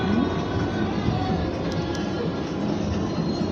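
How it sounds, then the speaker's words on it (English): A Manhattan-bound 4 train on the New York subway roars along loudly and steadily, a dense rumble of wheels and car noise with no talk. "This is a Manhattan-bound 4 train."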